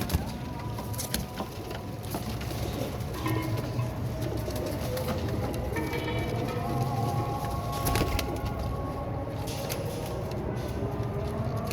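Ten to twelve red-eyed pigeons coo in low, repeated murmurs against a steady outdoor bustle, with a few fainter bird calls scattered through.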